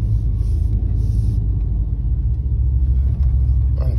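A Dodge Scat Pack (SRT 392, 6.4-liter V8, eight-speed) pulling out, its deep engine rumble steady and close throughout with a slight surge near the end, no talking.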